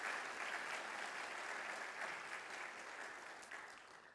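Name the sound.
audience applause for a guest's mother at an event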